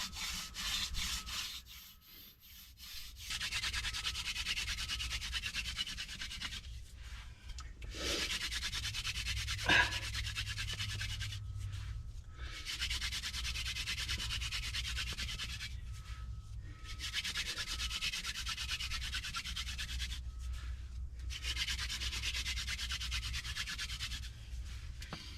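Steady, continuous rubbing and scraping of a wooden hand drill spinning on wood to make a friction fire, close and fairly loud, with brief pauses between long bursts of spinning friction.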